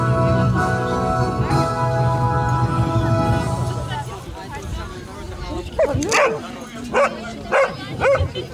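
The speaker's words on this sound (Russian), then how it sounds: "на ограждении нельзя собачкам ругаться" Sled dogs at a dog sled race in Pavlovsk, 2017, held near a fence. Sustained whining and whimpering is followed by several sharp, close barks in a quick, uneven series.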